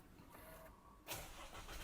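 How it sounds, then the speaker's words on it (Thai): A faint whir of a starter motor, then the 1.9-litre engine of a 2020 Isuzu MU-X catches and settles into a steady idle, heard from close by. "เดี๋ ยวเขาญาตครับทำการสตาร์ทให้เครื่องยนต์คันนี้ก่อนนะครับ"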